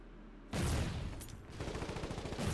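An artillery gun fires in the Foxhole war game, a sudden loud close blast after a quiet moment, followed by a dense rumbling roll of sound that sustains and pulses until the end.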